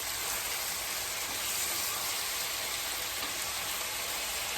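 Apples for strudel cook in a pan with a steady, even sizzle and hiss, close by and constant throughout, with no voices.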